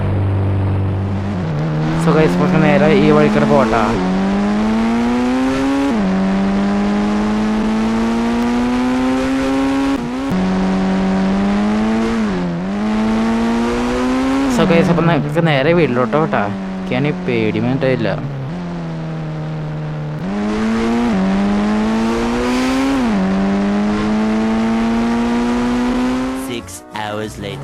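A car engine in the game Indian Bike Driving 3D rises and falls through repeated revving gear shifts, loud and continuous, while someone talks over it.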